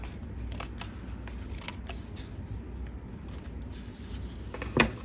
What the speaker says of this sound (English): Scissors don't want to cut the cheesecloth.